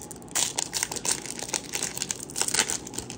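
Crinkly foil of a trading card booster pack being torn open up close, a steady run of crackling and rustling bursts with louder flurries near the start and end, no voices.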